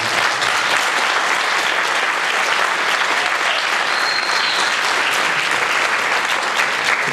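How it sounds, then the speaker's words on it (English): Sustained audience applause at a jazz camp concert, a dense steady wash of many hands clapping for two performers, loud and continuous throughout without letting up. "Can you have a round of applause for Jerry and Mike?"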